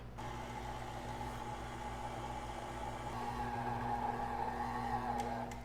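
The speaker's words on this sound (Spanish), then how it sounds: "vamos a batir en velocidad baja hasta que veamos que se unió y apagamos" An electric mixer beats butter cookie dough at low speed, whirring steadily with a constant motor hum, slightly louder toward the end, faint and continuous.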